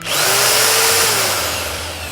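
A Tech.AC TA-01-240 cement mixer drill, rated 2000 W, runs in first gear with a loud, continuous close motor whine and hum that holds steady and eases slightly toward the end.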